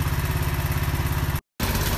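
A small tractor engine idles with a fast, even chugging pulse, close and loud, cut by a brief gap of silence before the same running resumes.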